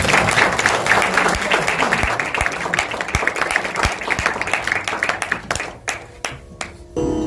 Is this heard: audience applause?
yes